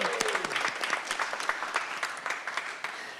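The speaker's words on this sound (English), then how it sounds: "give a round of applause for Miss Ashley Moore" Scattered clapping from a modest audience at a school board meeting welcomes a new school nurse, a few seconds of uneven hand claps that gradually thin out.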